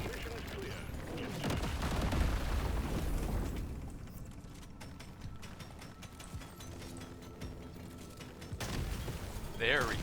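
Grenade launcher explosions rip through swarms of bugs in the video game Deep Rock Galactic: Survivor, a dense, rumbling burst of blasts and crackling impacts that thins into scattered pops, then flares up again near the end.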